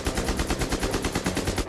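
A German MP-44 assault rifle fires on full automatic in a rapid, even burst of about twenty loud, close shots with no pauses.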